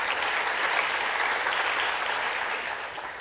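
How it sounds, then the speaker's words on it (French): Audience applause at an opening ceremony of a conference in Côte d'Ivoire, a dense, steady wash of many hands clapping that holds evenly, then tapers slightly toward the end. "Je voudrais vraiment qu'on les applaudisse."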